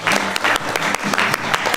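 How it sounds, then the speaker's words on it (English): Audience applause at an improv comedy show, a steady burst of close, dense clapping from a full room that runs without a break for under two seconds. "Let's set them out with some applause."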